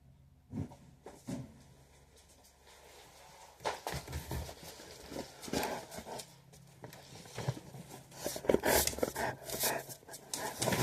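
A dog pants and snuffles close by, with brief whimpers, patting sounds and rustling movement among bursts of handling noise.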